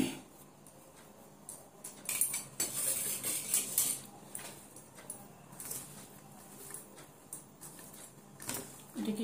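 Potato mixture with cornflour is mashed and mixed by hand in a bowl, a close, irregular run of scraping, clinking and squishing knocks against the dish, rising and falling in bursts over a quiet background.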